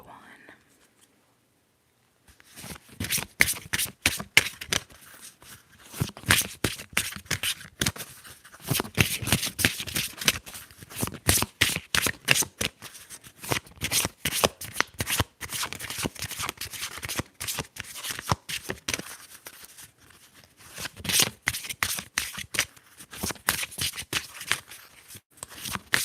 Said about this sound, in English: I want to shuffle long just so you know.